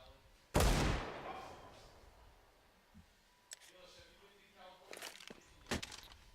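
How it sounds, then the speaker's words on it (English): Desert Eagle pistol shots in Counter-Strike on the Inferno map during a FaZe versus Virtus.pro match: one loud sharp shot, then a few fainter shots and clicks a few seconds later over in-game ambience. "Quality deagle shots here on Inferno"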